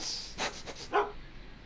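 A dog in the Back to the Future video game gives two short, moderately loud barks and yips over faint background ambience.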